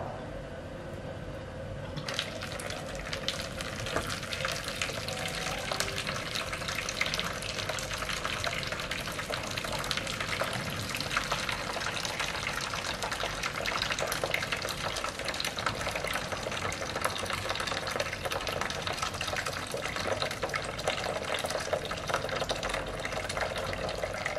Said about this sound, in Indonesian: Pertama-tama buka dulu keran untuk tempat keluarnya sampel, kemudian buka keran dari tube menuju shell.